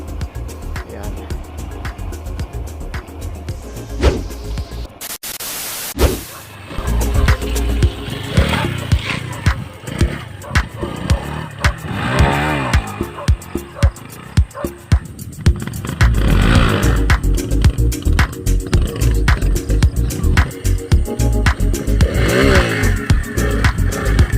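A Yamaha XTZ125 motorcycle engine revs repeatedly during wheelie practice, rising and falling in loud, close bursts with wind buffeting and a voice talking between the revs.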